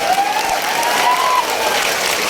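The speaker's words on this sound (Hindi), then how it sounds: "तो मैं चाहता हूँ एक बार अपने लिए भी जोरदार तालियां होना चाहिए।" Loud, steady applause from a crowd at a protest rally of unemployed youth in Bhopal, dense clapping filling the whole stretch with a thin whistle-like tone riding over it.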